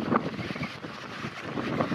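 Steady wind blowing on a hot, sunny day at a camper-van stop in Spain, a moderate rumbling gust noise buffeting the microphone throughout, with no talking.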